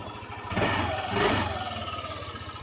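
A Yamaha Aerox scooter with its stock muffler idles close by, a steady mid-pitched engine putter with a brief swell in revs.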